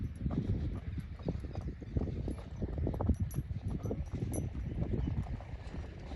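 A mare's hooves clip-clop in a steady, quick rhythm as she is trained in a single-foot gait, the footfalls close and fairly loud against a rough, noisy outdoor background.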